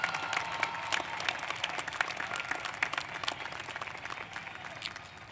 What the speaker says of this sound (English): Please give them one more round of applause for their dedication to academics at Ysleta High School